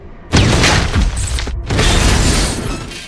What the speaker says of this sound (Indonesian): dia pun langsung meledakkan granat tersebut